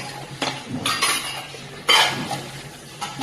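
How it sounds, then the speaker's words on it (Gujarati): A spoon stirs rice in a metal pot while dhokla ingredients are mixed at home, giving close, irregular scraping clinks in a few short bursts. "આ બધું આપણે એક તપેલામાં બરાબર મિક્સ કરી દેવાનું છે"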